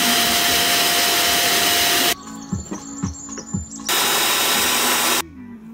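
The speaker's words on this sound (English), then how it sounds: "we'll just drill it out." A power drill bores out a stuck screw on a 25-year-old Land Rover Defender. Two long, loud bursts of whining motor come close to the mic, with quieter clicks and handling sounds in the pauses between them.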